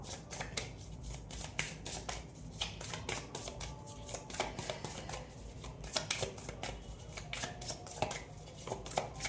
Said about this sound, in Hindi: ओके, मैं पहले निकाल लेती हूँ कार्ड्स।